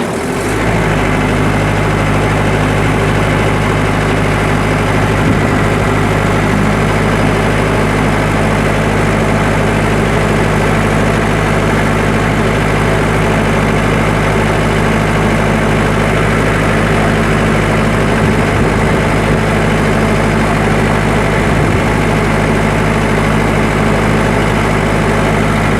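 A diesel generator set runs steadily during an engine protection test, its loud, even low rumble and droning hum holding constant throughout with no speech over it.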